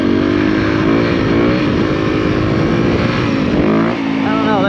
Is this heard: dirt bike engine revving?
yes